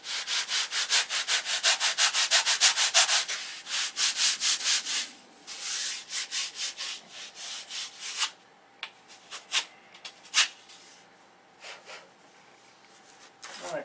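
Aircraft flaps being hand-sanded, a quick rhythmic series of loud rasping strokes that later slows into scattered, separate scrapes and brushes at close range.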